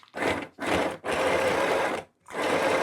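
A VICTOOL 520PLUS sewing machine stitching fabric runs in several fast mechanical bursts, a steady rattling whir that stops and starts with short pauses between runs.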